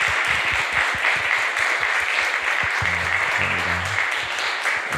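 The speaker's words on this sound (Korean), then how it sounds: "자리에서 잠깐 일어나시면 박수로 환영하겠습니다." A church congregation claps steadily together, with rhythmic, even applause held for several seconds.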